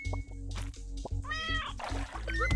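A cat meows in the Turnip Boy Commits Tax Evasion video game, several short cries over a steady game soundtrack with a pouring, trickling texture; no one speaks.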